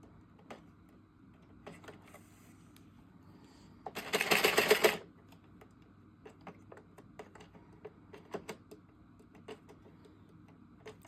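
Addi or Sentro circular knitting machine being cranked, a fast clattering burst of rapid clicks lasting about a second, surrounded by scattered faint ticks and taps in a quiet room.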